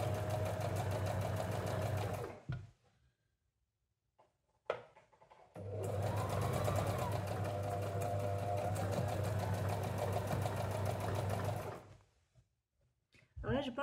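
Domestic sewing machine stitching a knit garment, running in two long steady bursts with a short stop between, then a brief restart at the end; close and loud.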